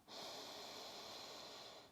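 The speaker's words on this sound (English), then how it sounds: "Inhale." A slow, deep inhale during a gentle beginner yoga session, a steady close airy rush of breath lasting about two seconds, soft and alone with no talking.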